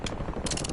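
A magazine reload in Warzone: a brief mechanical clatter of metal clicks and a ratcheting snap, close and crisp, lasting under a second.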